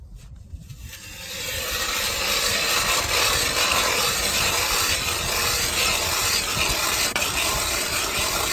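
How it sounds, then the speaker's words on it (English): An ice auger grinds into lake ice, starting after a short quiet moment and then rasping steadily and loudly in one continuous bore for several seconds. "So we're gonna drill here"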